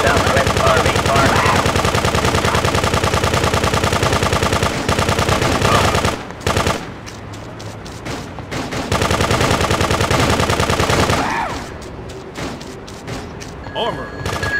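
Rapid machine gun bursts in the top-down game GTA 2, a loud, continuous rattling stream that breaks off briefly, then resumes, with a voice talking in between.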